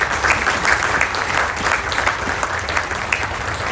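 Audience applause at a state senator's open house, a steady wash of many hands clapping that fills the whole stretch at even loudness with no voices over it.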